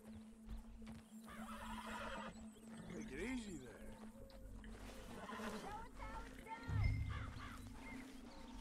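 A horse in the Western open-world game Red Dead Redemption 2 whinnies and snorts amid clip-clopping hooves and a steady hum, while a voice talks soothingly over the animal throughout.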